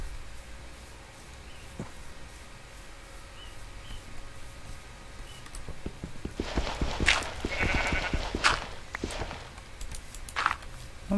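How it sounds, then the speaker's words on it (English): Sheep in the video game Minecraft bleat several times in quick succession over a faint steady background, with soft footstep-like clicks, the bleats growing louder and clustering toward the end. "Sheep."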